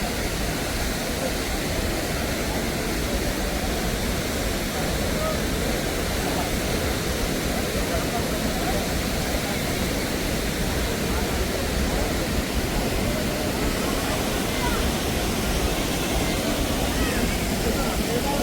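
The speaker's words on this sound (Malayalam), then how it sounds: "അപ്പോൾ അതാണ് ആതിരപ്പള്ളി വെള്ളച്ചാട്ടം" Athirappilly waterfall roars as a dense, steady wash of rushing water, continuous and loud, filling the whole scene without break.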